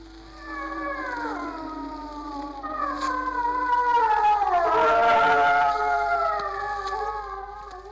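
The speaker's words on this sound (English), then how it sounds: "I heard a parrier dog wailing." A prairie dog wails in long, wavering, rising and falling cries, swelling louder in the middle, with no other sounds around it.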